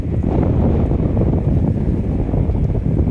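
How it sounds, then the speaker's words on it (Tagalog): Strong wind at Manila Bay roars and buffets the microphone steadily, a dense low rumble with no pauses throughout. "Ang lakas ngayon ng hangin dito na ating nararamdaman"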